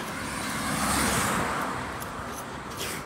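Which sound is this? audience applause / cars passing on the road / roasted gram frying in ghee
cars passing on the road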